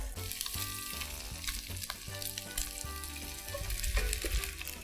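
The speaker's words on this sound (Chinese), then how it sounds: "我们鱼干要先爆一下，先煸香一下" Dried fish stir-frying in a wok for an Indonesian tempeh stir-fry, a bright steady sizzle with occasional scrape and clatter accents, heard over faint background music.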